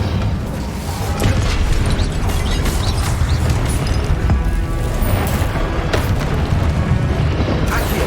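A fire spell cast in Hogwarts Legacy, part of a dense run of game combat effects: loud continuous whooshing and booming bursts with crackle, sustained throughout with no talk.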